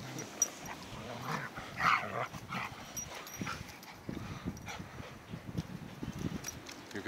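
An Airedale terrier panting and snuffling close by, with a few short yips and huffs, moderately loud over a quiet background.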